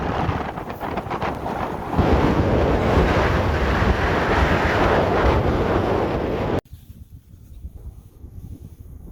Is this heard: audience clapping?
no